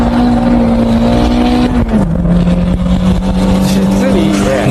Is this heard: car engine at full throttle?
yes